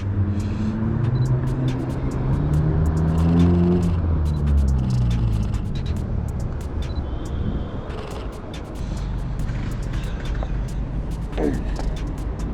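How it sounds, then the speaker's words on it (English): Cars pass by on a street at night, their engines rising and fading as they approach and go by, with a steady road rumble running throughout while someone talks over it. "Alright, here comes some cars now."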